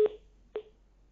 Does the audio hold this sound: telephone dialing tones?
yes